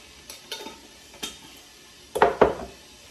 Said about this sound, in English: I'm going to put a tablespoon in the teapot